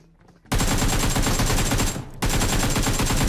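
AK rifle fire in a shooting video game erupts as a loud, sustained automatic burst, breaks off briefly, then resumes just as dense and close.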